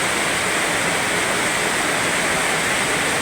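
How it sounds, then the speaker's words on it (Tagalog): A loud, steady wash of heavy rain pours down at night in Dasma, Cavite, forming a thick continuous hiss with no breaks, voices or separate drips. "Grabe, buhos ng ulang ngayon."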